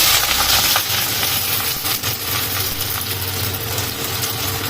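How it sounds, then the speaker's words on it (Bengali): Sliced onions for biryani berestha are dropped into hot oil and fried on high heat, a loud, bright, continuous sizzle and crackle from start to finish. "বেরেস্তাটা ভেজে নিই হাই হিট, দেখো হাই হিটে দিয়ে এটাকে পুরো ভেজে নিই"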